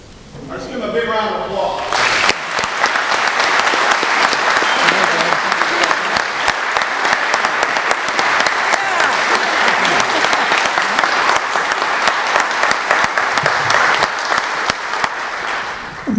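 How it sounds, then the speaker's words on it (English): A banquet audience breaks into a sustained round of applause that starts abruptly after a brief spoken introduction and stays loud and dense for about fourteen seconds before easing off slightly. "Let's give him a big round of applause"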